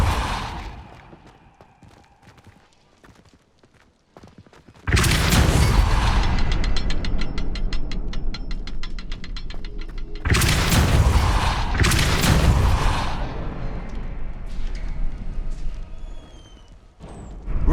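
Depulso spell blasts in the video game Hogwarts Legacy, sudden loud booming bursts that roar for several seconds, a second blast following the first after a short gap, preceded by quieter rattling ambience.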